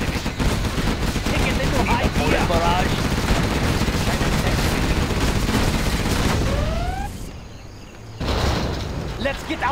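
A loud, continuous artillery barrage and gunfire from Chinese tank forces in Command and Conquer Generals Zero Hour, dense rumbling blasts that drop briefly before resuming, with game voices over the battle.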